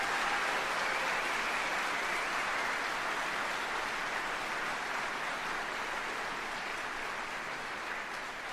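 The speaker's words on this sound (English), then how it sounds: "So please join me in let's giving our families a round of applause" Steady applause at an Army general officer retirement ceremony, a dense even crowd clapping that holds at one level for about eight seconds with no speech over it.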